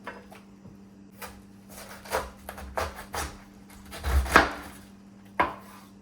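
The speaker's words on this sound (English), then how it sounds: "You're gonna cut her in half." A knife chops through a whole head of cabbage on a cutting board. Several loud, solid thunks land in an uneven sequence, with one heavy cut near the end and no talking.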